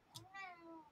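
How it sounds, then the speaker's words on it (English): A house cat gives one soft, drawn-out meow indoors, quiet and close, preceded by a brief faint click. "Just a meow in the background."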